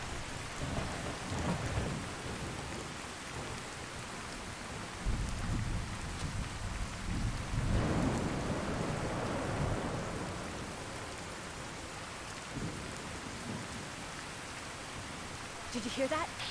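Steady rain hisses and a deep roll of thunder rumbles midway through a storm in the video game Fallout 4, with rain continuing throughout and no talking.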